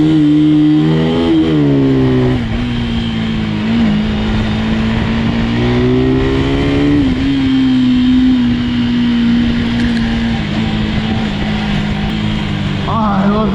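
Motorcycle engine riding along a bike lane, a steady loud drone with rising and falling pitch as it shifts and accelerates, with brief speech over it.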